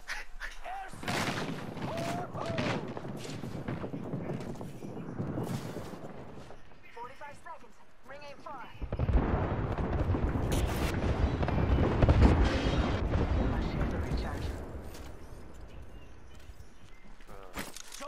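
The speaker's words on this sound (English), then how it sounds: "Airstrike!" A burst of heavy explosions from an airstrike in a battle royale shooter game erupts midway and rumbles on for several seconds, with gunfire and footsteps nearby, under steady talk from the players.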